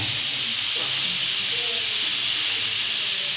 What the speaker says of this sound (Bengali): আমি সেদ্ধ দিই।